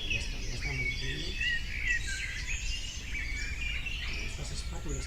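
Birds call at a wetland refuge where spoonbills gather, with dense overlapping chirps and whistles forming a continuous chorus over a low background rumble.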